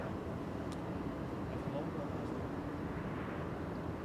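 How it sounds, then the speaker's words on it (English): An airplane landing at Amsterdam Schiphol Airport with its landing lights off gives a distant, steady broadband roar that holds even throughout, with faint talk underneath. "Airplane landing without landing lights on."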